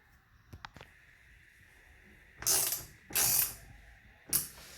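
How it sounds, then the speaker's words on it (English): A T30 driver tightens a bracket screw while a LinQ mount is fitted to a Sea-Doo Spark 2-up. Three separate bursts of close ratcheting clicks follow a few faint taps, with quiet between them and no talk. "This is my T30. I'm tightening all the way."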